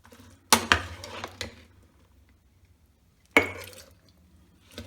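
Lemon chilli pickle spooned into a glass jar, giving two sharp clinking, scraping bursts of utensil against glass separated by a quiet pause, close and fairly loud with no talking.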